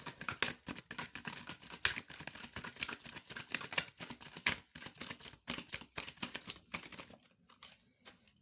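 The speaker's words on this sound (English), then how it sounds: "I do realize the cards are loud when I shuffle" Tarot cards are shuffled up close in a rapid, loud, papery patter of riffling and slapping that continues steadily for about seven seconds before trailing off into a few soft taps, with no talking.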